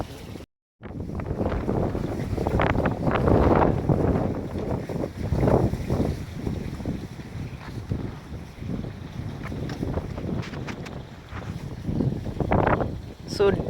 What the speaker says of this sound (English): I think the wind's not helping either. It's windy in here, guys.